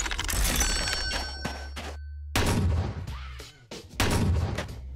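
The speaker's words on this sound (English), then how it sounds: "Shotgun." Shotgun blasts in a homemade video game, with three loud, booming shots spaced apart, each leaving a short ringing tail before the next.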